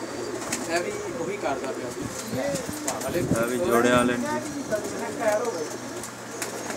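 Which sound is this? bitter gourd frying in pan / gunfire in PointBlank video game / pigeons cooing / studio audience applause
pigeons cooing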